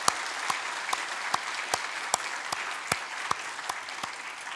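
A church congregation claps to welcome newly confirmed members during an evening service, a steady, moderately distant round of applause with a few sharper individual claps standing out.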